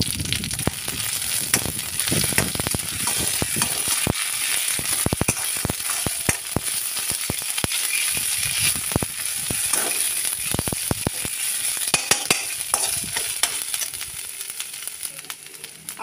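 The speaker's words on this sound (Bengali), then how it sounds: "ভাজা ভাজা হয়ে গেছে রসুন আর কালো জিরে আর শুকনো লঙ্কা, এবার এই যে পাতা বাটা, খারকোল পাতা বাটাটা দিয়ে দিলাম" Kharkol leaf paste hits hot oil with fried garlic, nigella seeds and dried chillies, giving a loud, steady sizzle with crackling pops scattered throughout and no voices.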